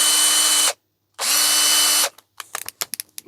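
A hammer drill on hammer action at fastest speed, with a 7mm masonry bit, roars loudly in two close bursts into masonry, the second longer, followed by a few sharp clicks and knocks as it stops.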